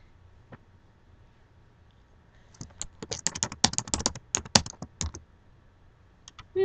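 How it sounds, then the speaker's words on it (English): Bursts of computer keyboard typing during website editing, a quick run of close, crisp key clicks with short pauses, alone without talk. "I want to go ahead and type in here"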